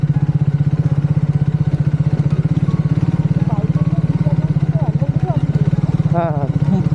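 A motorcycle engine thuds in a steady, loud, close rhythm while riding a rough, badly broken off-road trail, with some clatter and someone talking over it.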